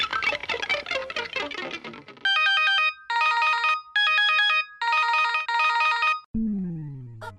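A telephone rings in bursts of synthetic electronic tones, four or five repeated rings standing out clearly after a stretch of busy background sound in a Hindi comedy TV serial scene.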